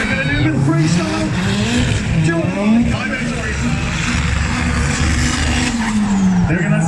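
Revving race engines and squealing, skidding tyres during a freestyle display at Brands Hatch, loud and continuous, with a commentator talking throughout.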